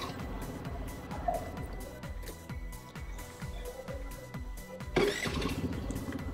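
A Honda Activa scooter's electric starter cranks briefly and the engine catches, settling into a steady close idle with a short revving burst near the end.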